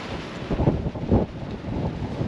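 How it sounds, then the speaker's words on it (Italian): Strong wind gusting across an exposed roadside stop on a motorcycle trip, roaring in broad steady buffets with two stronger surges, loud and close against the microphone, with no talk. "questo vento non passerà in un'ora, durerà sicuramente fino a questa sera"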